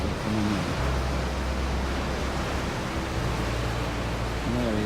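Waves thundering against the rocks by St Mary's Lighthouse, a continuous broad roar of surf with low rumbling swells, steady and fairly loud throughout.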